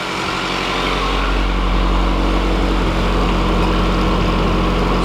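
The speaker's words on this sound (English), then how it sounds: "It is pretty loud because I just have the Integra header going into the stock Civic exhaust" A Civic sedan with a B18B engine, an Integra header feeding the stock exhaust, runs at idle on a cold day, a loud, dense, steady engine and exhaust drone throughout with no voices.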